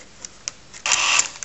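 A TRS-80 Quick Printer II runs its self-test when switched on, with a few faint ticks and then a brief, loud burst of buzzy mechanical printing close by.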